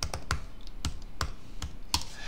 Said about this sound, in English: Now I'm going to click to this and hit Command J or Control J